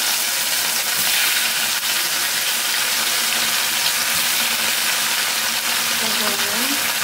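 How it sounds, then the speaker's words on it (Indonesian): Selar fish frying in very hot oil, giving a steady loud broadband sizzle and hiss that continues without letup from start to finish. "Lanjut kita goreng ikan selar. Ini minyakku tuh panas banget guys."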